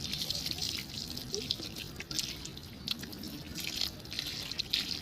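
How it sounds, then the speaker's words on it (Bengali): Running water from a tap splashes and drips steadily as taro corm (elephant foot yam) is washed by hand in a sink, close and continuous with no talking. "এই যে এটা আমি এটাকে পরিষ্কার করে ধুয়ে নিচ্ছি"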